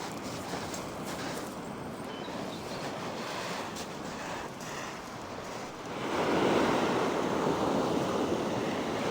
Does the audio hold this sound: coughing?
no